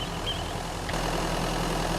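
Vehicle engine idling in Mist Survival, a low steady rumble with a slight shift in tone partway through, continuous and alone.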